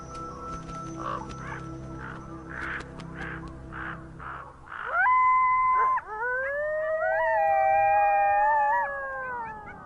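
Wild coyotes howl in long, rising and wavering cries that overlap loudly in the second half, after a stretch of repeated raven caws over a low rumble.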